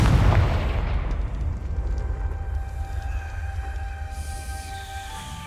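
A Confringo fire-explosion spell from Hogwarts Legacy bursts with a heavy, low boom at the start, then rumbles and rings out slowly over several seconds, with tonal magical shimmer layered on top.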